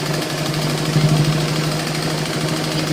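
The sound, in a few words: sewing machine stitching blouse waistband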